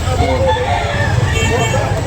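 A Black McRae gamefowl rooster crows once amid a busy outdoor yard, the call partly buried under nearby people talking.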